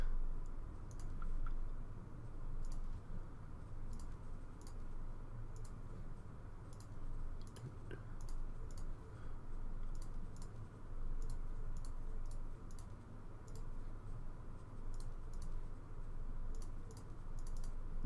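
Rapid mouse clicks while working down a station build list in the X4 game, a steady string of short, light, dry taps spaced unevenly over a faint constant hum, close and clear, no voice.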